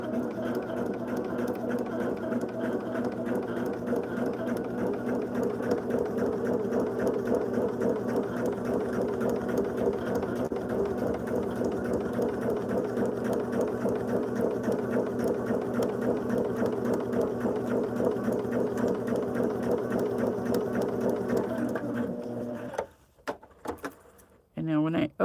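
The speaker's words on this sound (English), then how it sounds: "we're going to put right sides together here for piece number 5. And just sew on that line." A sewing machine stitches quilt pieces together in a steady, continuous mechanical whir with rapid rhythmic needle clatter for over twenty seconds, then stops, followed by a few handling clicks.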